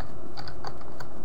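A username and password are typed on a computer keyboard, with a quick run of sharp, close key clicks over a bit more than a second and no speech.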